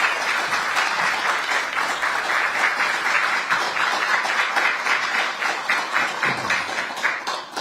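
Sustained, dense audience applause fills an opening ceremony for a new Ministry of Oceans and Fisheries government office in Busan, greeting the president's congratulatory address. The clapping is steady and unbroken throughout, with no talk over it.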